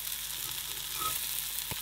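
Lentil balls fry in oil in a pan with a steady, close sizzle, broken near the end by a soft knock as one is turned over.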